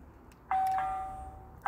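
A Tapo D230S1 video doorbell plays its chime when the button is pressed: a clear, sustained electronic tone rings out alone, followed by the start of a second chime at the end.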